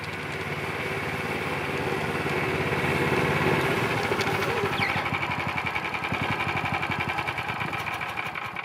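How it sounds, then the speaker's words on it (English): Small motorized Snowdog snow machine engine running steadily outdoors near an off-grid log cabin, a continuous buzzing drone with rapid fine pulsing, fairly close and even in level throughout. "Snowdog, there's no key for it. You just turn it on and go."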